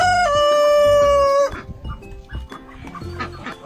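A young rooster crows loudly nearby with one long, strained call, followed by quieter farmyard clucks and rustling.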